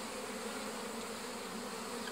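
Bees buzz in a dense, continuous drone around a beehive frame, with no voices and no breaks in the sound.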